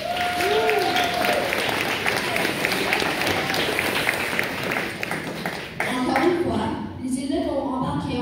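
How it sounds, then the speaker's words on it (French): An audience at a school Christmas concert applauds the school choir, a dense wash of clapping from a crowd with cheers and a voice speaking over it, thinning toward the end. "Applaudissez chaleureusement la chorale de notre école."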